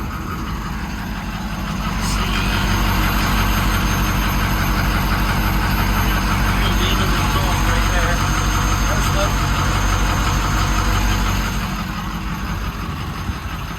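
A 2005 Ford F650 Superduty Pro loader diesel truck idles nearby with a loud, steady engine rumble and drone that holds constant throughout.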